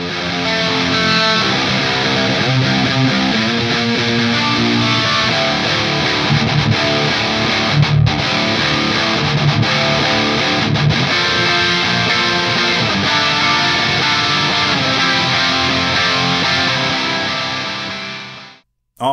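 Heavy rock electric guitar played through a BluGuitar Amp1 Iridium amplifier into a Mesa Boogie-style 4x12 cabinet with V30 speakers. Thick distorted riffs with chugging chords run continuously and loud, then ring out at the end.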